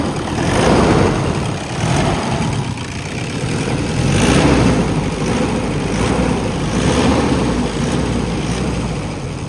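A 2011 Toyota Innova 2.5G with a diesel engine idles steadily, a close, continuous rumble with a faint clatter that holds a constant level throughout, with no voices.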